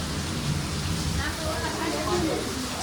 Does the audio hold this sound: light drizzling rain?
yes